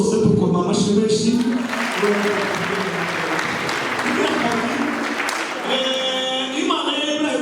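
A church congregation applauds at length during a Christmas prophecy service, a dense, steady wash of clapping with a voice sounding over it at times.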